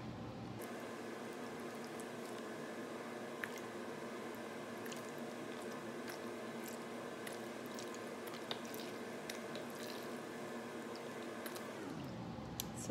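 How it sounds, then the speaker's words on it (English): Sugar water is poured into a soft ice mixture, making a steady wet squishing and bubbling liquid sound that stays close and fairly quiet, then stops abruptly near the end. "So I'm going to put in the sugar water for the other half."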